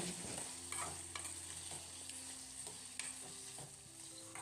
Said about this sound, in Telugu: మీడియం సైజ్గా కట్ చేసిన టమాటా ముక్కలు వేసుకోవాలి అలాగే ఇందులోకి నాలుగు ఎండుమిర్చి వేసుకుని ఫ్రై చేసుకోవాలండి